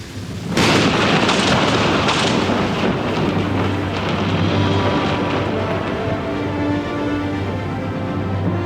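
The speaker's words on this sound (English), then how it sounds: "A tropical typhoon gathers strength in the vast expanse of the Pacific" A Pacific tropical typhoon opens with a sudden loud crack of thunder that rolls into a long, dense roar of heavy rain and wind, sustained and close throughout.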